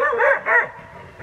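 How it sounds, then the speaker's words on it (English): Dogs barking in a short burst of several loud, close yips and barks with whining tones, no talk over them. "stinking dogs."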